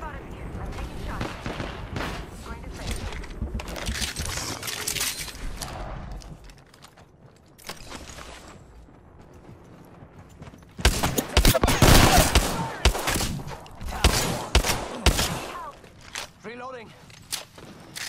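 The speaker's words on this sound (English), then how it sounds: "They spotted me. I'm taking shots." Bursts of rapid gunfire from the Apex Legends video game come and go among footsteps and movement, with a loud, dense volley in the second half and people talking over much of it.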